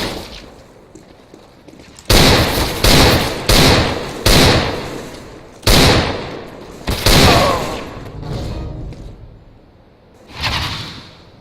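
Desert Eagle pistol fired in CS:GO, a string of loud, sharp single shots spaced about half a second to a second apart, each with a short decaying tail, then a pause before one last shot.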